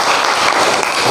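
Classroom applause from a group of students, a dense burst of clapping that is loud and close and lasts about a second.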